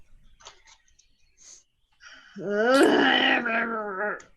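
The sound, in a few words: imitated saber-toothed cat growl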